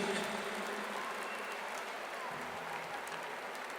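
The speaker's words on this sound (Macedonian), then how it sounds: "Голем аплауз за него ако може" A concert crowd in a large arena in Skopje applauds a guest performer being welcomed on stage. The clapping is a steady, dense wash from a distant audience that holds at an even level throughout.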